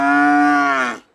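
A single loud, close cow moo at a cattle market in Banshkhali, Chattogram, a sustained harmonic bellow of about one second that cuts off cleanly.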